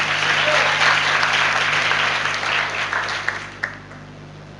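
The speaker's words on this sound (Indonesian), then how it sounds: "Kalau tepuk tangan, semua tepuk tangan." A church audience claps together in sustained, dense applause that fills the room, then thins out and tapers off near the end.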